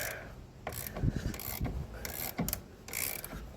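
A ratchet wrench clicks and metal scrapes as brake caliper hardware is loosened on an '87 C4 Corvette during front brake and wheel bearing work, in several short, close bursts.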